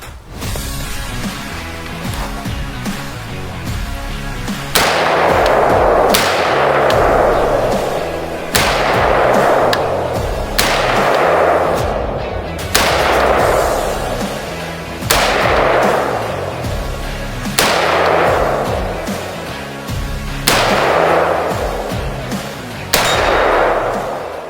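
An M16 rifle fires single shots at a steady, deliberate pace, about nine or ten loud, sharp reports roughly two seconds apart, each followed by a short ringing decay, with no talking.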